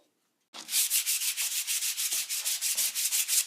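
Wood putty is sanded off by hand on a caboose under restoration, heard as steady, rhythmic rasping strokes close by, roughly five per second after a brief silence.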